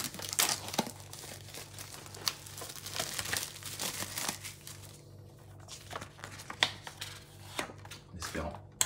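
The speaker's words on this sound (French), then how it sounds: "on va procéder au déballage de ce steelbook." Plastic wrapping is crinkled and peeled off a Super Mario Bros movie 4K Blu-ray steelbook in quiet, irregular rustles and crackles, with a few soft taps as the case is handled.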